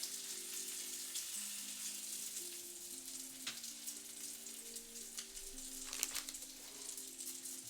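A small piece of bacon sizzles in a pan for a breakfast sandwich, with a quiet, steady frying crackle, fine spattering pops and a few brief clicks of the pan, with no talking.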